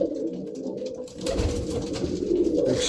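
Pigeons coo in soft repeated low-pitched phrases, close and steady, with no talk; these are Izhevsk, Perm and Mordovian mottled breeds, black-maned cocks and yellow-maned hens.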